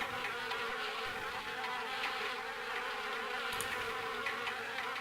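Bees or wasps buzzing inside a house in the Harvester video game, a steady, dense, faint insect drone that continues without pause.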